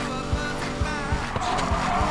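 A car engine drones steadily and loudly during a race in the video game Need for Speed Payback, with a car held to about 180 km/h.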